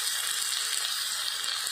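Potatoes fry in hot oil with a steady, even sizzle that holds close and constant throughout, with no talk over it.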